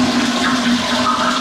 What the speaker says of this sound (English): maybe if I flush the toilet a few times, I'll see the water level drop